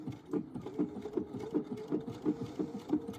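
A sewing machine stitches slowly and steadily, its quiet, even mechanical thumps repeating about three times per second with no voice over them.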